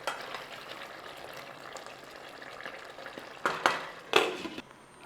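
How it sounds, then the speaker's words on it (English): Aloo gobi, potato and cauliflower, stirred in a pan, with a steady low sizzle and then two or three louder scraping strokes near the end. "In that 8 to 10 minutes, just give it a little stir."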